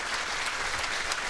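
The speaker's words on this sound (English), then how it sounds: "after the little round of applause" Applause ripples through the audience at a junior hockey league draft, a brief, moderately quiet wash of clapping with no voices over it.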